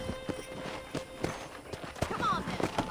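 Hooves clop unevenly while riding a horse on a ranch property in Red Dead Redemption Remastered, moderately loud amid game ambience and other faint sounds.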